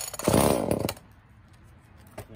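A chainsaw with a freshly replaced purge pump primer bulb and air filter is pull-started with the trigger locked and choke on: a loud, rough burst of about a second that quickly fades, followed by quieter mechanical noise.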